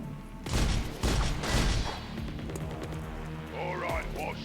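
Enemy gunfire in the video game XCOM 2 crackles in a dense burst of rapid shots, then thins into scattered echoing pops and rumble over the following seconds.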